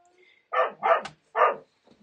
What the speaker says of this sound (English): you can probably hear my dog barking to get in